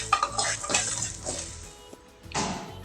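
A utensil scrapes and clinks against a pan while mustard seeds and poppy seeds are stirred, giving irregular metallic clatter with a louder scraping burst near the end.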